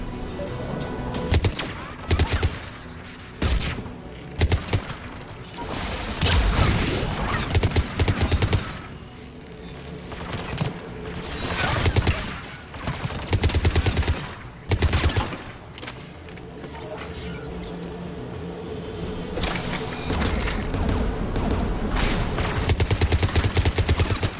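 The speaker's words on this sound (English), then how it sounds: "There, the anti-aircraft gun." Anti-aircraft gun in the Mass Effect 3 video game, firing in loud, repeated bursts of booming gunfire with dense fusillade-like volleys and brief pauses throughout, close and dominant.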